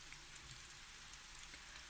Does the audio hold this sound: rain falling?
yes